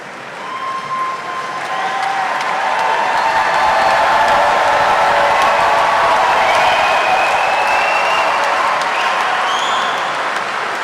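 Sustained loud applause from a large audience at a university commencement for bachelor degree graduates, steady dense clapping that swells and holds for about ten seconds with a faint cheer mixed in.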